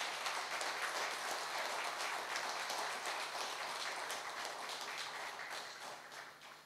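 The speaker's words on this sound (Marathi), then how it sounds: "जोरदार एकदा टाळ्या होऊ द्या" Sustained applause from a Marathi talk-show audience greeting an interview guest who once cycled through 24 countries, dense steady clapping that fills the room and tapers slightly toward the end, with no talking over it.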